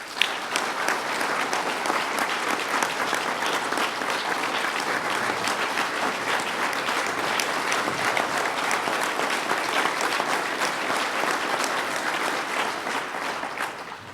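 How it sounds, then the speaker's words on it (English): Sustained applause from a large audience greets Governor Andrew Cuomo at a public announcement of a nanotechnology investment, steady and dense for the whole stretch with no talking over it. "join me in giving another round of applause specifically for the leader who made it happen, Governor Andrew Cuomo"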